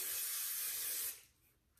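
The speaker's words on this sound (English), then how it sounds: "I'm gonna take our Chi hairspray and I'm gonna spray this bottom" Chi hairspray sprayed from a can onto a bottom layer of curls, a steady close hiss lasting about a second before cutting off into quiet.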